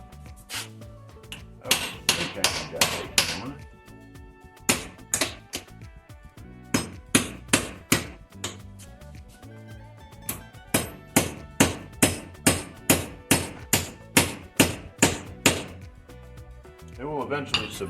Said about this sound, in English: drill a hole the right size and pound the rivet over it and hold it in place